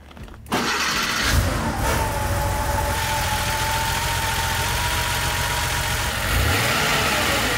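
A Porsche 911 Carrera engine starts with a sudden roar after a quiet moment, then runs loud and close, revving and droning steadily as the car pulls away.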